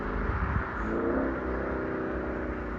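A car exhaust revs and drones at a distance, faint and steady, with a slight swell in pitch partway through.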